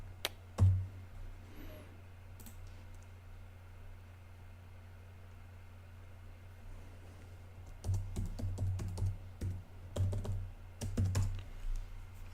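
Computer keyboard keys clack in scattered taps at first, then in a denser burst of rapid typing toward the end, close and fairly quiet with a low hum underneath.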